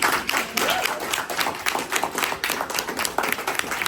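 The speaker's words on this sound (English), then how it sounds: "I think we ought to give them a round of applause." A crowd applauds, a dense patter of many hands clapping at once, fairly close and sustained for several seconds.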